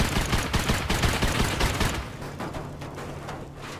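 Dense, loud gunfire from a Rust match, a rapid close volley filling the first half and thinning into scattered shots with a low mechanical hum beneath.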